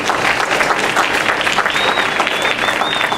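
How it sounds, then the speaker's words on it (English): Steady audience applause greets a new executive at a meeting, dense and continuous throughout, with a faint high whine running under the clapping in the second half. "Let's give them a round of applause."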